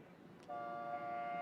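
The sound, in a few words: race start horn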